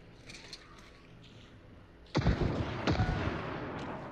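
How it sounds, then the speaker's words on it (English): Double barrel shotgun blasts in Hunt: Showdown, two heavy booming shots about a second apart after quiet ambience, loud with echoing tails. "Damn, double barrel shotgun"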